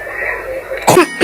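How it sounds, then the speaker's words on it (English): A cartoon character coughs and clears its throat once, a short rough burst near the end of a brief quiet moment, close and alone. "Sorry about that cough,"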